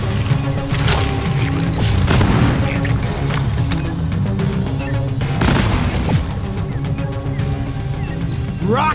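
Dense automatic gunfire from a four-player dwarven mining expedition game rattles almost nonstop at close range, punctuated by booms and crashes, with game music and effects layered under it.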